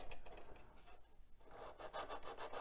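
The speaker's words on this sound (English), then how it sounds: "sand some of the high spots down." Soft, quiet rasping strokes of light sanding with a 400-grit sanding stick on a 1/350 RMS Titanic model, a gentle back-and-forth rubbing that pauses briefly before resuming.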